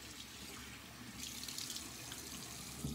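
Tap water runs in a steady hissing stream into a sink to wet a shaving soap, close and continuous, with a slight swell midway and no talk.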